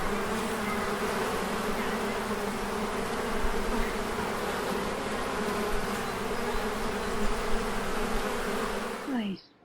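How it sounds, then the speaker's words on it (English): Honey bees swarm and buzz around two healthy hives outdoors, a steady, dense droning hum that fills the whole stretch without letup, with no talk over it. "The bees appear to be happy and healthy, and they are thrilled that both hives are doing so well"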